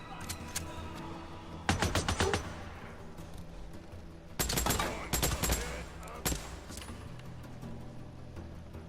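Gunfire in the video game Days Gone, rapid automatic bursts in several loud clusters separated by quieter stretches of ambient game sound, with a few single shots trailing off.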